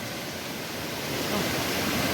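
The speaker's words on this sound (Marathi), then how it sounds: "सुंदर असा धबधबा आहे हा बघा इकडे" A waterfall at Nivendi village, Ratnagiri, in Konkan, roars steadily nearby, a thick, even rush of falling water that swells slightly louder toward the end.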